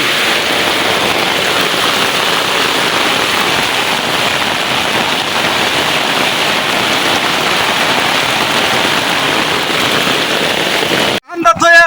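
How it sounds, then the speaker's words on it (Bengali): Heavy monsoon rain beats down steadily and loudly near a kitchen shelter, a constant dense hiss that breaks off abruptly near the end into a short burst of other noise. "অসাধারণ বৃষ্টি হয়েছে।"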